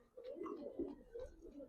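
Racing pigeons in a loft coo in a series of soft, throaty bursts, close by and moderately loud, with no talk.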